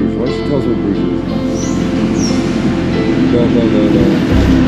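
Connecting train traveling through Belgium toward Bruges, a loud steady rumble from inside the carriage with faint high squeals from the wheels.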